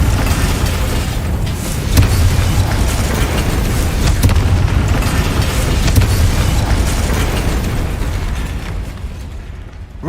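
Loud rumbling blast from the fire-conjuring Confringo spell in Hogwarts Legacy, a sustained deep booming roar with crackling debris that fades slightly toward the end.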